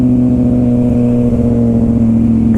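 A 2007 Suzuki GSX-R 600 sportbike pulls hard under acceleration on a cold, wet test ride, its engine note loud, steady and continuous with strong tonal harmonics throughout, no voices over it.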